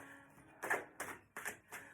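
Card shuffling in quick riffled bursts, four rustling flurries close by with brief pauses between them.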